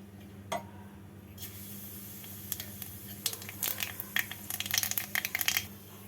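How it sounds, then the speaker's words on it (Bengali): Nigella seeds dropped into hot mustard oil start sizzling softly, building into a dense run of small crackles and pops over a low steady hiss, close by and fairly quiet. "তেলটাকে ভালো করে গরম করে নিয়ে এর মধ্যে দিয়ে দেবো হাফ টিস্পুন কালো জিরে ফোড়ন"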